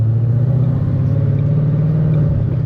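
The speaker's fastest car pulling hard under acceleration, a loud, steady low engine drone with a rising rumble filling the cabin throughout, no talking over it.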